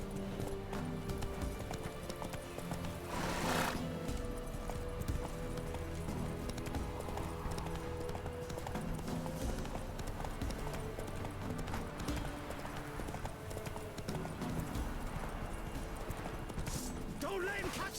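Hooves of Roach, a horse in The Witcher 3 game, clip-clop at a steady gallop throughout, with a neigh partway in, under ongoing game music and a voice talking.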